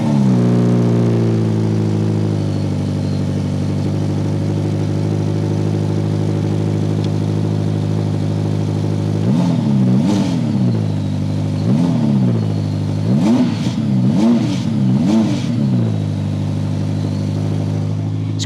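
A Ferrari SF90 Stradale hybrid supercar idles with a deep, steady engine drone, then is blipped several times, each rev rising and falling sharply, loud and close, with no talking.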